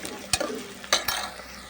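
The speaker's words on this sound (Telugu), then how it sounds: "ఫస్ట్ ఉల్లిపాయ పచ్చిమిరపకాయ వేసేసుకున్నానండి" Onion and green chillies fry in hot oil for a potato curry, a soft sizzle broken by two sharp stirring scrapes of a spoon against the pan, close by.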